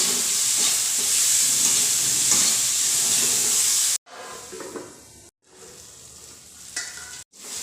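Tomatoes, red chili powder and spices cook in a pan with a loud, dense sizzle. It cuts off abruptly, then returns as quieter, uneven crackling with brief gaps.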